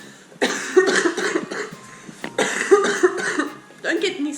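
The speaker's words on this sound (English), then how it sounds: "Stop coughing." Several harsh coughs in quick bursts from a person who is sick, close and loud, with pauses between them in a quiet room and no talk.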